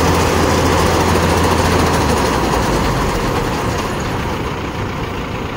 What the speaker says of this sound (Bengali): এবারে গাড়িটি ধান ঢালবে